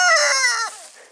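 Organically raised backyard chickens let out a loud, close squawking call with harmonic clucks while tearing apart garden greens, the call trailing off after about a second.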